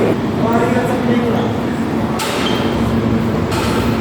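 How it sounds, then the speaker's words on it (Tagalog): A New York subway train rides along with a steady, loud rumble and rattling carriage noise, occasional clinks and surges, and voices talking underneath. "Sakay na kami tren."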